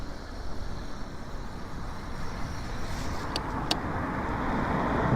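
Road traffic rumbles past in a neighborhood as an e-bike rider waits at a stop, a continuous broad roar that swells slightly toward the end.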